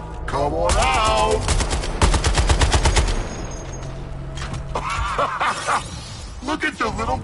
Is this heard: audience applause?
no